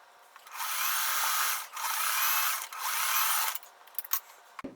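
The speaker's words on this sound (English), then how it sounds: "I'm just going to sew these together" A sewing machine stitches quilt squares together in three sustained whirring runs of about a second each, loud and close, separated by brief pauses, followed by a few clicks and handling knocks.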